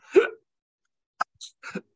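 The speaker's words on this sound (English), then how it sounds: "I've got the hiccups." Hiccups from a man during a cigar review, one sharp loud hiccup followed by a couple of quicker, quieter catches, close and with no talking.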